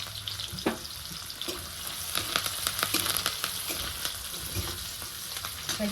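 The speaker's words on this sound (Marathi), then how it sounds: "कांदा हे लसूण आहे कढीपाला आणि हिरवी मिरची सगळं तेलात मी टाकून घेतलेलं" Sliced onion, garlic, curry leaves and green chilies fry in hot oil over cumin and mustard seeds, giving a continuous close crackling sizzle with scattered sharper pops and occasional light stirring.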